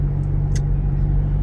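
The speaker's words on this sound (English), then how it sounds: "now we're back into the heavy traffic for all those northbound people" Heavy rush-hour traffic on Route 15 rumbles past, a dense low drone of car engines with a couple of brief hissing passes over the top.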